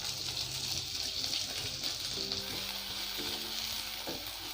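Long-sliced onions fry in oil with fennel seeds for mushroom masala, a soft, continuous hissing sizzle heard fairly quietly, with a faint steady hum beneath and no speech.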